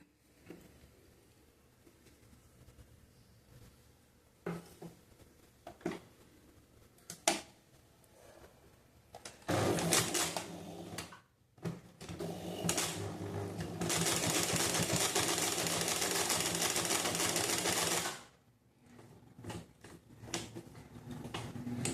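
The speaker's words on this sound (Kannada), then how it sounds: "ಇಲ್ಲೇ ಇದನ್ನು ಈ ಥರ ಫೋಲ್ಡ್ ಮಾಡಿಕೊಂಡು ಸ್ಟಿಚ್ ಮಾಡಿಕೊಡ್ರಿ" A sewing machine stitches along the back piece of a blouse, a steady loud whirring run of several seconds in the middle, set between quieter taps and handling of the fabric.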